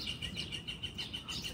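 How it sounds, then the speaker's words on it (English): Songbirds sing in Central Park, a run of repeated high chirps and whistles at a moderate distance over a steady low hum of park and city background, with no talking. "Sing, birds."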